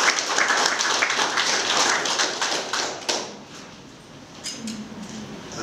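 Wedding guests clap during the exchange of vows, a dense patter of applause that thins out after about three seconds and trails into scattered claps and room noise.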